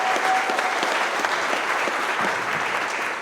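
Dense, steady applause from an audience at a trucking company's monthly meeting, welcoming a new finance director, sustained clapping throughout with no talk over it.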